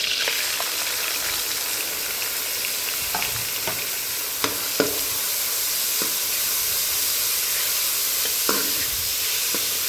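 Onions added to hot oil with cumin and asafoetida for chole, sizzling loudly and continuously in the pan, with spatula scrapes and taps scattered through, no talking.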